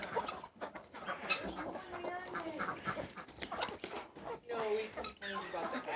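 Chickens on a farm on a rainy day cluck and squawk in scattered bursts, with a rooster-like call among them, while people talk nearby over the birds.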